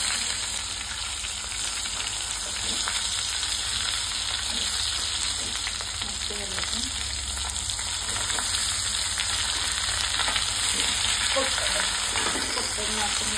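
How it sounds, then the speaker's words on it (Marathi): Stuffed brinjals sizzle and fry steadily in a pan with spices after mustard seeds and curry leaves have crackled, a loud, continuous hiss with small pops and stirring scrapes. "आता हे भरलेले वांगे आहेत ना, आपण टाकून घेऊया"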